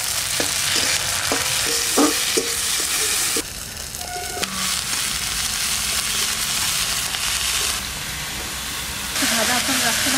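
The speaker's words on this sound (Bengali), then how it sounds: "ওই লঙ্কা আর জিরে বাটা খুন্তিতে করে দিয়ে দিচ্ছি।" A spatula stirs chilli and cumin paste into browned frying onions for a mushroom dish, producing a continuous close sizzle and hiss with scraping and stirring noises and a few brief knocks.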